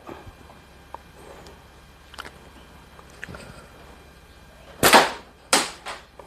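A slingshot fires clay pellets: sharp snapping shots crack out twice near the end, preceded by faint scattered ticks and quiet background; loud, close and distinct.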